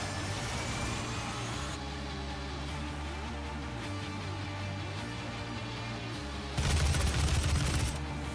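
Enemy laser blasts in the shooter game DOOM crackle over steady game sound and a low droning hum, swelling into a louder, denser burst of fire near the end.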